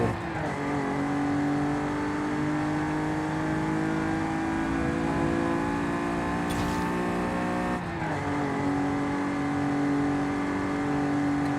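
Audi Quattro engine in Forza Horizon 5, a steady loud drone of sustained acceleration with layered harmonics, a brief shift dip near the end, and no talking.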